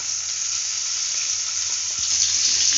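Fish frying in hot oil in a pan for a fish curry meal, a dense, steady hiss of sizzling oil that holds evenly for a few seconds, close by with one brief clink near the end.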